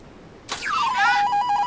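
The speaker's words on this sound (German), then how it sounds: "Was ist los hier? Telefon." A telephone rings in the video game Return to Mysterious Island, a single bright electronic trill that starts abruptly and holds on, clear and alone without talk.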